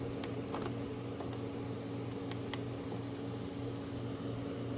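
A Harvest Right freeze dryer hums as it runs, a steady mechanical drone with a constant low tone and a few faint clicks, close and without talk.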